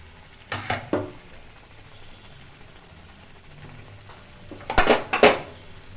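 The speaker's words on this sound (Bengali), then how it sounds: "এরপর আমি চিকেনটা দিয়ে দেব।" Chicken pieces go into fried masala in a cooking pan for a dhaba-style chicken dish, giving two brief bursts of metallic clatter and sizzling separated by a quieter stretch of low frying.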